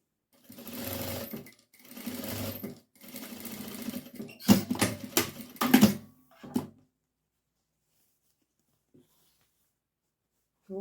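A sewing machine stitches bias binding onto a small cloth diaper in several close, steady bursts of running stitches with brief pauses, followed by near silence.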